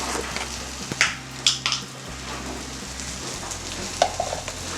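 Spice masala for mushroom biryani sizzles and fries in a pan while being stirred, a steady close crackle broken by a few scraping strokes and soft clanks of a spoon, with no speech.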